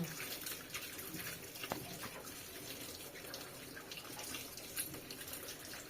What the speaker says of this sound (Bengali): দেখো কিভাবে আমি আলুগুলো কসবাইটা জালিটা দিয়ে পরিষ্কার করে নিচ্ছি আলুগুলো।